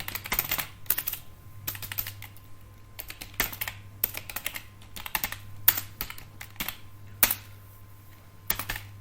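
A formula being typed into an MS Excel sales sheet on a computer keyboard, heard as a steady run of crisp key clicks with a few louder strokes, under a low constant hum.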